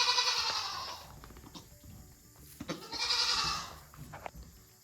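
A mother goat and her newborn kid trade bleats, two strong wavering calls separated by quieter shuffling and small noises, heard up close without any speech.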